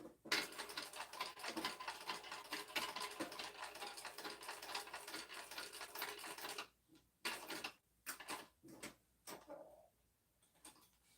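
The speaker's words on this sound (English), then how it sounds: "we just want to top stitch along the edges that we just sewed, leaving our bottom open" A sewing machine top stitches along fabric edges, its needle clattering in a fast, even rhythm for several seconds before breaking into short stop-start bursts, close and fairly quiet with no talking.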